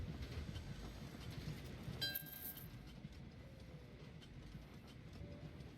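A passenger train in the video game Train Valley 2 rumbles along in a low, continuous rolling drone, with a brief bright metallic ring partway through.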